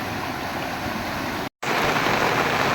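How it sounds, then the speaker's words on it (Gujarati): A heavy downpour pours over open farmland in a steady, dense roar of rain that fills the whole clip, broken only by a brief silent gap midway. "ધોધમાર વરસાદ ધોધમાર"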